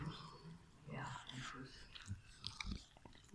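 Dog eating popcorn from a bowl: close, soft crunching and chewing bites that grow sharper toward the end, with someone speaking quietly over it.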